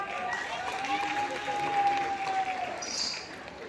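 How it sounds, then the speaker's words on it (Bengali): An audience at a Bengali folk music concert applauds in a steady, fairly close wash of clapping while someone speaks over it. "নিজেদের জন্য একটা হাততালি হয়ে যাক।"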